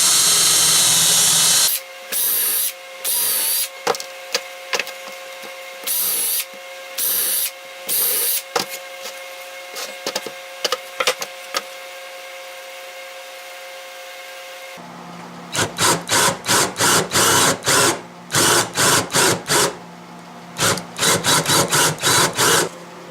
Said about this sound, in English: I'm just drilling and countersinking holes to build the box.